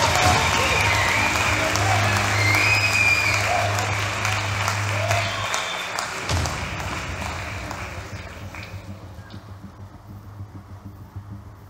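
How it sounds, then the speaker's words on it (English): Audience at a book launch applauding, a broad wash of clapping that starts strong and gradually thins and fades toward the end, with some voices and a thud mixed in. "Round of applause."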